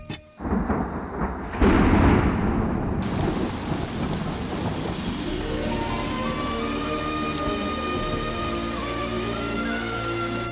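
Heavy rain pours steadily on a surface with deep rumbling thunder, loud and close, a sharp crack early on giving way to continuous downpour, with no talk.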